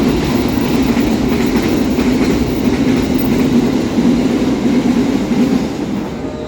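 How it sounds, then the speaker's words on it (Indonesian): A container freight train passes Karawang station, Indonesia, in a loud, continuous rumble of rolling wheels that stays close and steady throughout. "Itu di sebelah sana ada semacam kereta kontainer ya yang melintas langsung stasiun Karawang."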